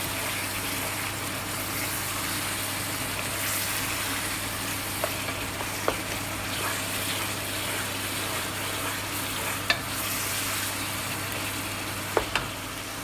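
Browned meat fries and sizzles in a pan over high heat for a pasta bake, a steady close hiss broken by a few faint clicks of stirring, with no talking.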